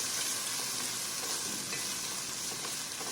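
Crushed ginger, garlic and green chili sauté in hot oil in a pan, a continuous close, bright sizzle with the soft scrape of stirring running throughout.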